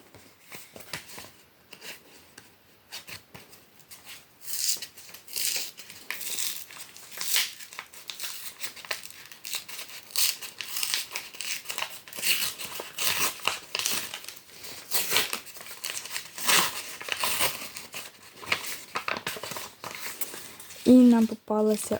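Crinkling of a paper surprise bag being handled, steady rustling and crumpling throughout at close range, with a brief voice near the end.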